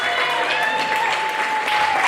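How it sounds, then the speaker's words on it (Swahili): Wedding guests applaud warmly for the groom's family, a steady wash of crowd clapping throughout, with a sustained musical tone underneath. "tukaweze kuwapigia makofi mazuri kwa kuweza kujiunga nazi"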